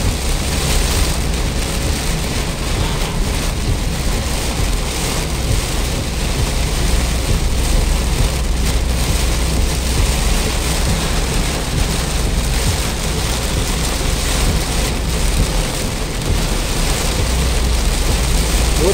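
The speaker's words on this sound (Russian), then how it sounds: "Смотрите, какой шторм прям." Heavy tropical rainstorm pounds a car driving on Interstate 95 in Georgia, a loud, steady roar of rain and road spray that fills the whole stretch without pause.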